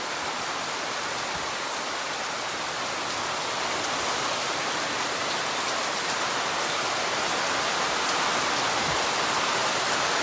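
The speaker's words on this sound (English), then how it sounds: "The rain is falling." Morning rain falling in Jamaica, a steady dense hiss of rain on surfaces that holds constant and grows slightly louder toward the end.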